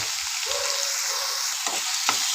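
Tomatoes and garam masala fry in a pan, giving a constant close hiss of oil with a couple of brief scraping strokes near the end.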